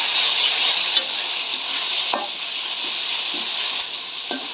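Fish masala fries in a pan with whole green chilies and tomato pieces, giving a steady bright sizzle with a few sharp clinks of stirring scattered through it.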